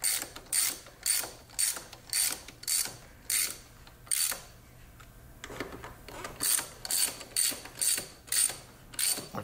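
A torque wrench ratchets in quick bursts of rapid clicks, tightening bolts on a Hydro Gear transmission, repeated close-up clicking runs with short pauses between them.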